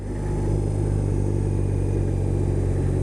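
A 2021 BMW R18 First Edition motorcycle's big engine during a ride, a loud, steady low rumble with a constant throbbing drone at low revs and no voices.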